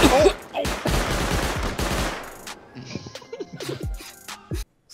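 A base turret in Rust opens up with rapid automatic fire. Dense bursts of gunshots come first, then thin out into scattered shots and clatter, all loud and close.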